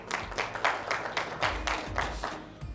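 Audience applause at a corporate presentation event in Kohat: a modest crowd clapping in uneven, rhythmic bursts, steady and moderately loud throughout with no talk over it.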